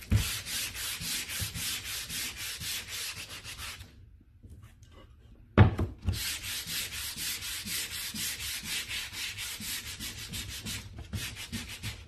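Steady rhythmic sanding rasps back and forth across a stenciled wood sign, close and continuous, with a brief pause and a knock before the scraping resumes.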